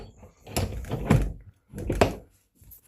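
Door of a cabin-style home bar pushed open and knocking against its bolt, a few heavy wooden thunks and rattles close by, with short gaps between the knocks.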